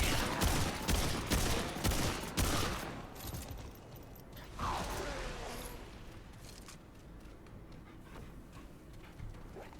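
Rapid bursts of gunfire from the video game Remnant 2 rattle in quick succession, dense at first and then thinning into scattered shots and softer mechanical noise.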